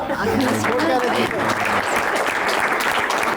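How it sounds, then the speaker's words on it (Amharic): Warm audience applause at a lively game-show quiz event, a dense, steady wash of many hands clapping together for about three seconds, loud and close. "እሺ ስናጨበጭብ አንድ ላይ ነው። ሞቅ ያለ ጭብጨባ።"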